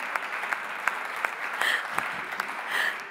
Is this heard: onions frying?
no